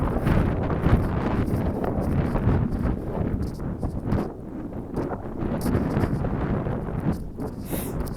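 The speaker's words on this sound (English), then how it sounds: "I'm literally just walking straight into the wind now, aren't I?" Wind buffets the microphone along an outer park trail at Dyer Park in West Palm Beach, Florida, a loud, steady, rumbling roar that fills the whole stretch with no pause.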